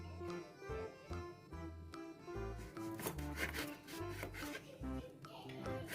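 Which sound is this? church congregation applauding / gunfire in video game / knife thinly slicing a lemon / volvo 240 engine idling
knife thinly slicing a lemon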